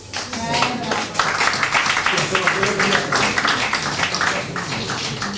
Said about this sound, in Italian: Facciamo un applauso a Cibotto